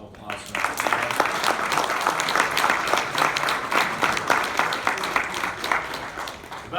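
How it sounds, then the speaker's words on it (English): Steady audience applause after a talk, a full crowd clapping evenly at moderate loudness for several seconds, with some voices mixed in. "Another round of applause."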